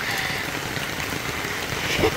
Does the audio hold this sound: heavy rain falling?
yes